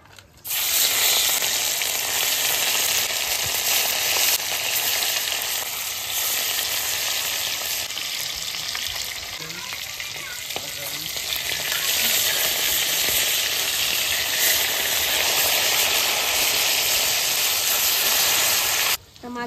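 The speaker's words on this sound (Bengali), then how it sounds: "একটু বেশি করে তেল দিচ্ছি যেন মাছটা মচমচে করে ভাজা করবো।" Fish fry in plenty of hot oil in a heated pan, a loud, continuous crackling sizzle that holds steady close up for the whole stretch, with no talking over it.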